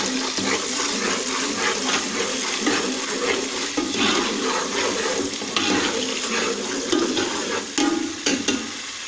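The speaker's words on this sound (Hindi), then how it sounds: "प्याज हमने ऐड कर लिए" Onions fry in a pot for chicken biryani, with a continuous wet sizzle and irregular stirring scrapes throughout and no talk.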